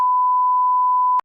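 A steady, loud electronic censor bleep holds one tone for just over a second, covering a swear word in a cartoon skit, then cuts off sharply.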